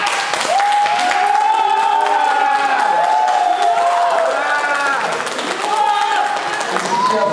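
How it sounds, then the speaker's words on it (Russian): Wedding guests applaud in a steady, dense wash of clapping that holds throughout, mixed with music and voices over it. "Аплодисменты. Ура!"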